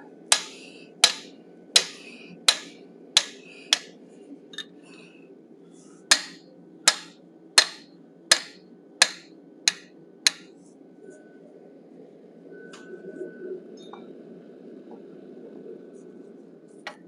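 A hammer strikes a 1/8 inch fuller to texture a forged steel wolf head, landing sharp, ringing blows in a steady series with a brief pause midway, then a quieter scuffing stretch at the end.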